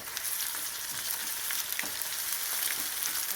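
Garlic and ginger fry with browned onions in a pot for red lentil soup, a steady close hiss and sizzle with faint stirring clicks and no voices.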